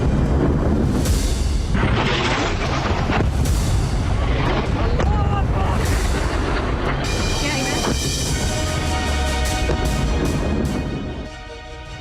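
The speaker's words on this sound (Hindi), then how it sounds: "एक सनसनाता हुआ बम आया और जोरदार धमाके के साथ" A bomb explodes during an Israeli airstrike on a building in Lebanon, a loud, deep roar of blast and rumble that fills the scene before fading near the end.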